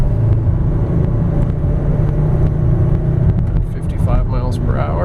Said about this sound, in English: Accelerating, you'll see that the vehicle does accelerate quite smoothly.